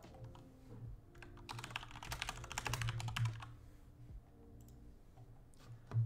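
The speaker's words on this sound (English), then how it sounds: "Have a blue switch keyboard or something?" Keys clatter on a blue-switch mechanical computer keyboard, bursts of sharp clicky keystrokes close by, with brief pauses between runs of typing.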